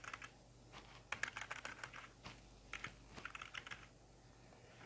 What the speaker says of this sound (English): if I type anything like Peter